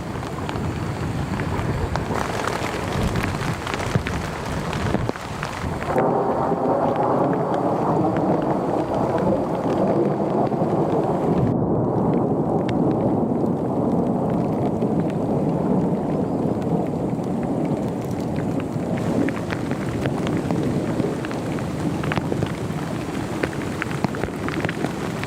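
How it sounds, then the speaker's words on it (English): Heavy rain pounds steadily on tent fabric while thunder rumbles and roars through a storm in a remote hiking area, with a loud, dense wash of sound throughout and no talk. "she could hear the water pounding against the fabric and the storm roaring above"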